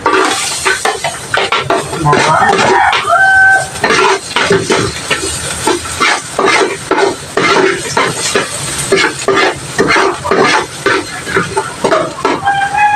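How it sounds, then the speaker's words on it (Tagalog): Garlic sautéing in a pan for arroz caldo, a steady crackling sizzle with clinks and scrapes of a utensil against the pan throughout, close and fairly loud. "At igigisa na rin po natin ang ating bawang."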